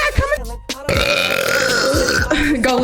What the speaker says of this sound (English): Oh, damn, good burp.